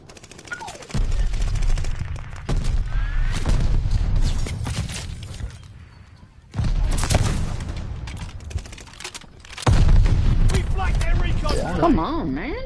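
Heavy weapons fire in the Call of Duty: Vanguard shooter game, with mortars in use, comes as three loud sustained bursts of booming gunfire separated by short lulls, with players talking over the action.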